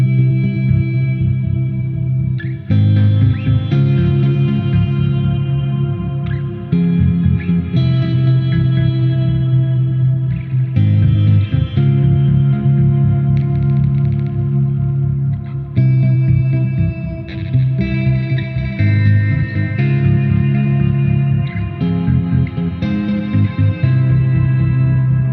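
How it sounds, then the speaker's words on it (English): A Microcosm effects unit turns a brooding synth bass line into sustained, droning low tones with ring-mod shimmer and echoing, chorus-like textures, steady and loud throughout. "it gave you this brooding sort of synth bass thing going on"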